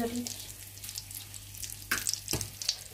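Nachos topped with cheese frying in a pan, a steady soft sizzle running throughout with a few brief clinks and scrapes near the end.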